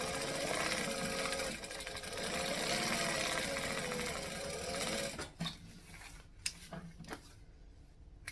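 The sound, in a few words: sewing machine stitching a seam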